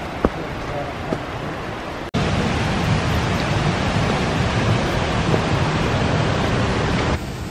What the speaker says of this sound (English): we can hear the water